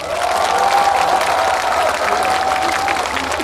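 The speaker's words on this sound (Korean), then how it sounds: "맞으면 박수 한번 주셔야지." Crowd applause at an outdoor K-trot music festival in Daegu, steady and loud clapping from a large audience, with a faint voice briefly over it.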